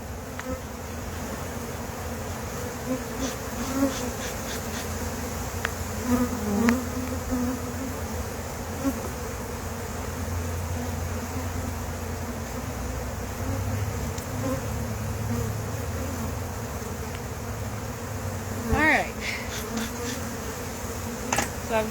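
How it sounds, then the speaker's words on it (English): Honey bees buzzing around an open hive with a nuc, a steady dense hum of many wings close by, individual bees zipping past now and then over nearly twenty-two seconds, no voices. "So I've got a nice collection of bees huddled in the nuc"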